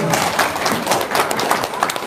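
An audience breaks into applause, a dense wash of clapping hands lasting a couple of seconds at a steady loudness.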